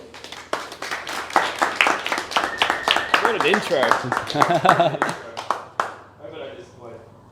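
Audience applause at a motivation seminar, scattered sharp hand claps from a small crowd running under someone speaking, with the clapping thinning out toward the end.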